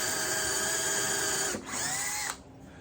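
A power drill drives screws into a wooden table, its motor whining steadily and loud up close, then dipping in pitch twice as the screws seat.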